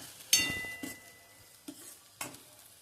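Cumin and ginger sautéing in oil, a faint sizzle broken by several distinct spoon scrapes and clinks against the pan, spaced irregularly over a few seconds.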